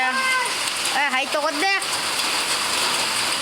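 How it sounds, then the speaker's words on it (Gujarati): Rain pouring steadily onto metal roof sheets, a constant dense patter heard throughout while a voice speaks over it. "તો વરસાદ આવવા માંડ્યો"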